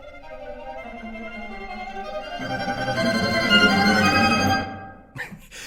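Orchestral violins saw steadily on notes of the tonic triad, the texture thickening and swelling louder before cutting off abruptly, followed by a brief faint noise.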